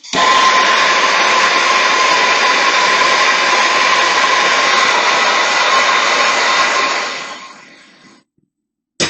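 A heat gun blows a steady, loud whirring rush while warming a Yamaha XT500 engine part, running evenly at close range before winding down and cutting off near the end.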